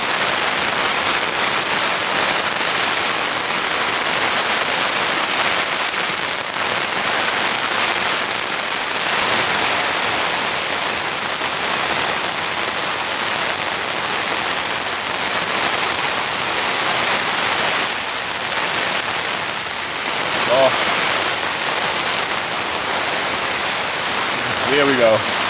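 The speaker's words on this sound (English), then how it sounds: "that rain is literally heavy-duty rain" Heavy torrential rain pours down on a solo campsite, a dense continuous roar of hiss that fills the whole clip, loud and close, with no clear voice over it.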